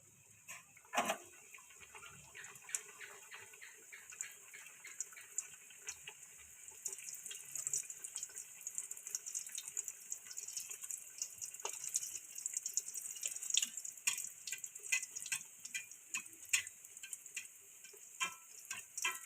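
A rolled pea kachori fries in hot oil, a bright crackling sizzle that starts with a sharp splash and then builds into dense popping and spitting, heard up close without speech.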